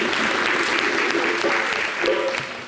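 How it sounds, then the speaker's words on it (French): Audience applause at a televised French summer variety show, loud sustained clapping filling the clip with a faint voice or tone near the end. "On l'applaudit!"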